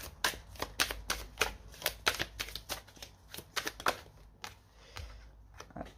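Tarot cards riffled and drawn by hand in a quick run of crisp, papery snaps and flicks, close and fairly quiet, with brief pauses between bursts.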